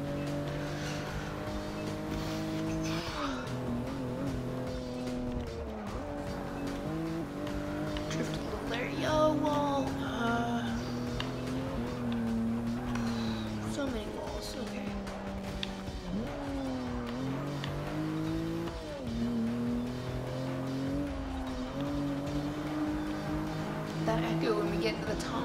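A BMW M235i engine in Forza Motorsport 6 drones steadily, its pitch rising and falling through gear changes and throttle, with someone talking over it throughout.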